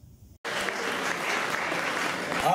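Church congregation bursting into loud, sustained applause and cheering after a brief quiet moment, a dense crowd of clapping filling the space.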